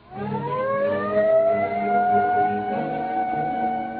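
A single wailing police car siren winds up and holds a rising, sustained tone, loud and fairly near, with no voices, from a 1938 radio show.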